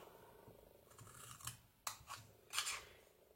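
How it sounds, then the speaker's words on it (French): Scissors snip along the fold line of a paper craft box, several crisp close cuts, the loudest near the end, with quiet rustling between. "maintenant je peux venir donc couper donc le long de la ligne de pli ici bien droit"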